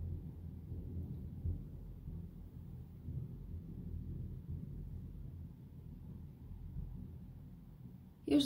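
Thunder during a thunderstorm rolls low and quiet in a steady rumble, with light wind or rain texture over it and a short louder burst right at the end.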